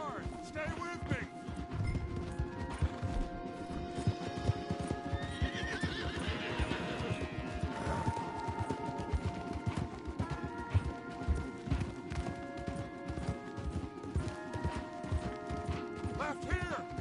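Horses gallop in a Red Dead Redemption II game scene, with fast hoof clip-clops, occasional whinnies and rattling tack under steady background score, close and continuous throughout.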